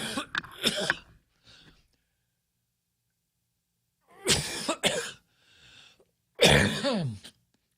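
Several bursts of coughing close to the mic, separated by silence, with a short throat-clearing sound in between.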